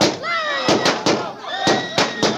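Gunshot sound effects in an old radio drama crack out as several sharp, loud bursts in an uneven volley, each one a quick bang, over music and voices that carry on between the shots.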